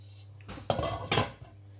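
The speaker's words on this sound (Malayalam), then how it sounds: "ഇതൊന്ന് മിക്സാക്കി കൊടുത്ത് നമുക്ക് അടച്ചു വെച്ച് വേവിക്കാം" A metal lid is set onto a cooking pot of mixed chicken filling for momos, giving two sharp clanks with a brief rattle between them in an otherwise quiet kitchen.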